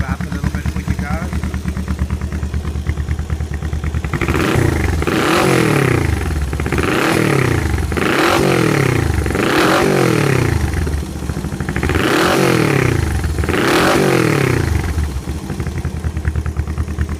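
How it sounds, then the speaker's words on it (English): Revving from a Honda CB360 cafe racer motorcycle engine, close and loud: an idling rumble rises into five or six repeated throttle blips, each swelling and dropping back to a rough, clattery idle. "See if I can just rev up a little bit for you guys."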